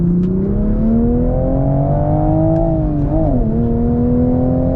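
Manual Toyota MK5 Supra pulling hard in second gear, a steady, loud engine drone climbing in pitch, briefly dipping near the end before continuing, heard from inside the car with no talk.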